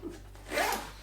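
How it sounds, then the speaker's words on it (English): A single quick zip closes a zipper on a GORUCK GR1 Slick backpack, a short close rasp that grows louder toward its end, heard alone. "Let me like zipper this one up so we can talk about them together"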